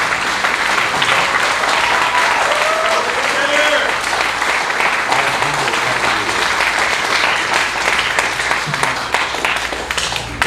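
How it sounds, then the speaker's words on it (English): A large audience bursts into loud, continuous applause and cheering at a live recognition event, a thick unbroken roar of clapping sustained at full volume from start to finish. "if you guys can give a big, big round of applause."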